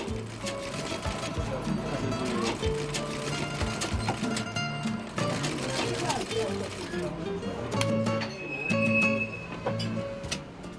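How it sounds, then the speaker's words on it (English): A sewing machine stitches leather shoe pieces in quick rhythmic bursts, its needle clattering steadily with brief pauses between runs, fairly close and moderately quiet. "the different pieces of the shoe are assembled with a sewing machine"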